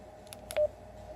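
A single short electronic beep from a TYT MD-380 handheld radio, brief and fairly quiet, over a low background hiss.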